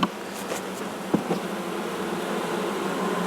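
Honeybees hum inside an open, quickly expanding beehive, a dense, continuous buzz close by with a few louder passes of individual bees.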